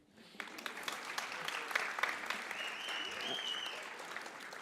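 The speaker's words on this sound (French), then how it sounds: "Il suffit que vous l'applaudissiez encore un petit coup" Audience applause at a creativity talk, building from quiet into sustained clapping from a fairly large crowd, steady and even, with a few sharper individual claps standing out.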